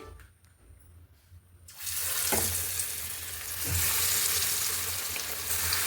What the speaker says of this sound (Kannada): ಎಣ್ಣೆ ಕಾದತ್ರಿ. ಲೋ ಫ್ಲೇಮ್ ಇಟ್ಕೊಂಡು ಈಗ ಕರೇನ್ರಿ.